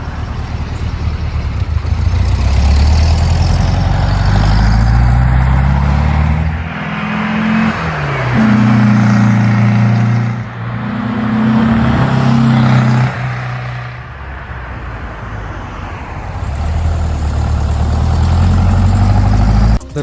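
A Porsche 356 engine in the racing game Need for Speed Porsche Unleashed drones loudly and steadily, its pitch rising and falling through repeated revs and gear changes.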